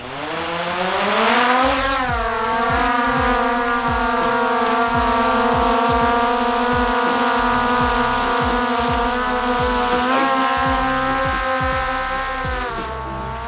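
A Skydio 2 drone lifting off for a first flight, its rotors giving a loud steady whine and buzz that rises in pitch at the start and holds close and constant, with a second brief climb near the end.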